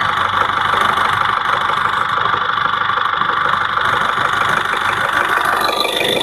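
A 2019 Maruti Ertiga ZDI+ diesel engine idles steadily and close by, a constant even rumble with a faint knocking texture and no speech over it.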